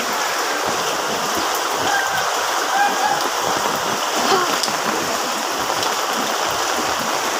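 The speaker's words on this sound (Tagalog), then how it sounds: "Ganito sa may Tertius compound, baha." Strong floodwater rushes through a residential compound during Typhoon Carina, a loud, steady, close roar of flowing water with no letup.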